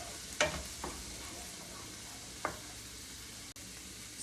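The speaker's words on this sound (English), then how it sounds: "So I'm going to saute this so it gets a little soft" Orange peppers, onions and garlic sauté in a pan with a steady low sizzle, interrupted by a few soft stirring scrapes, heard close and quiet with no talking.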